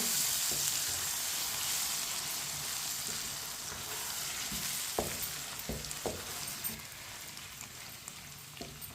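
Potato and okra frying in a pan as finely chopped green chillies are stirred in, a steady close sizzle with a few sharp spatula knocks against the pan.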